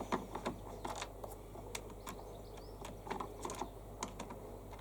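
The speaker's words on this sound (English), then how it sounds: "So we'll remove the two screws first of all" Irregular small clicks and ticks as two screws are worked out of a plastic cover on a mower during a starter solenoid replacement, faint and close over a low steady hum.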